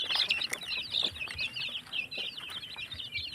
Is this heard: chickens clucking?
yes